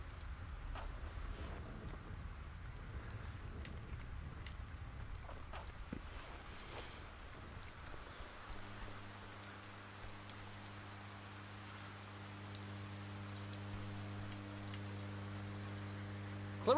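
Rain pours steadily through the Oxenfree video game scene, a soft continuous patter under a brief rustle, later joined by a low sustained droning tone, with no voices.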